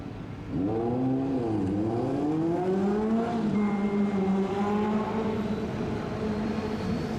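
A motorcycle engine revs up and down with rising and falling pitch, then holds a steady drone, fairly close and loud, with no voices.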